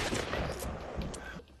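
Shots in a Fortnite match: a quick cluster of loud, punchy blasts lasting about a second and a half, close and harsh, then cutting off abruptly.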